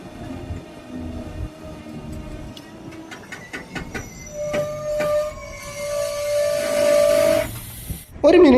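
The KSR Bengaluru–Ernakulam Intercity train pulls out of Karmelaram station in Bangalore, with clattering wheels and rail clicks building into a steady rolling rumble and a long, loud wheel squeal near the end.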